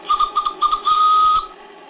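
A live steam engine's whistle, a vintage JMC 5 cc machine running at about 3 bar, gives several short shrill toots followed by one sustained blast of about half a second, then a faint hiss.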